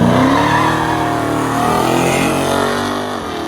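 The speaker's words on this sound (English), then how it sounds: "the Biscane spun the tires just a little bit on the launch" A Buick Biscayne drag car at the launch, its engine roaring loud and close as the tires briefly spin and squeal, the revving pitch climbing steadily before easing off slightly near the end.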